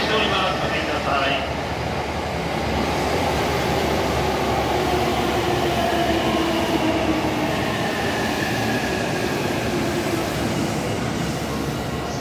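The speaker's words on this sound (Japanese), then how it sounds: "電車が進入しております。" An E531 series train rumbles loudly and continuously as it rolls into Kita-Senju station, with steady wheel noise and a faint squeal, filling the space up close.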